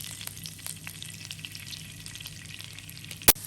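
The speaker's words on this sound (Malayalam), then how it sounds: "നമുക്ക് ബട്ടർ ഇട്ട് കൊടുക്കാം. അതിൻ്റെ കൂട്ടത്തിൽ തന്നെ ഞാൻ കുറച്ച് സൺഫ്ലവർ ഓയിലും കൂടി ഒഴിച്ച് കൊടുക്കുകയാണ്." Butter and sunflower oil sizzle in a hot pan as a steady, faint crackle with scattered small pops, ending in one sharp clack near the end, with no talk.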